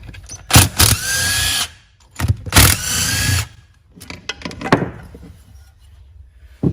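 A power drill fitted with a 12mm socket whirs in two long bursts on a John Deere LA165 lawn tractor, followed by short clicks and clanks of tools nearby.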